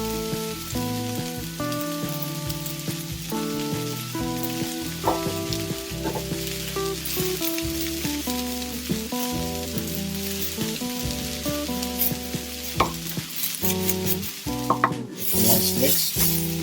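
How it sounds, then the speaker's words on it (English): Garlic sizzles in a touch of oil in a pan for a Sicilian caponata, a continuous crackling fry heard under prominent melodic background music throughout. "I'm going to add a touch of oil right there. Garlic goes in."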